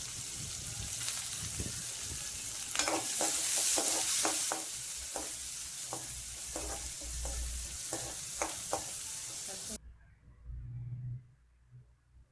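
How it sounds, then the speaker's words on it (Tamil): Oil sizzles steadily as onions sauté in a pan, with repeated scraping and stirring clicks, ending abruptly into near silence with a faint low rumble. "வெங்காயம் சேர்த்து அதையும் வதக்கி விட்டுக்கிடலாம்"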